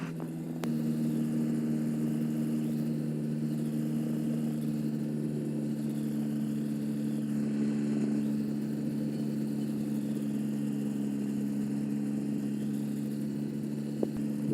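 Ultralight aircraft engine running steadily while taxiing to the holding point, a constant, close droning hum with no pauses throughout.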